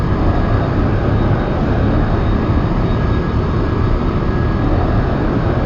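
Loud, steady jet engine roar from a fighter jet at raised throttle in the X-Plane 11 flight simulator, a dense unbroken rumble holding at one level throughout with no voices.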